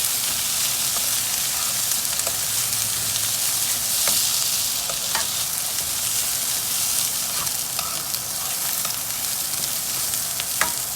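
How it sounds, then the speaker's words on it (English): Vegetables for Guyanese cookup rice frying on high heat in a pot, with a steady loud sizzle punctuated by scattered clicks and scrapes of stirring. "fry it up"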